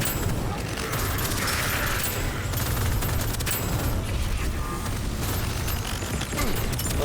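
Enemy gunfire in the shooter game Deadzone Rogue: dense, rapid bursts of shots and mechanical clatter fill the whole stretch, loud and continuous, with combat noise layered throughout.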